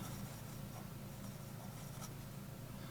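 A vintage Waterman fountain pen with a very flexible No. 5 nib writes on paper, a faint, close scratching that runs steadily with slight strokes and no voices.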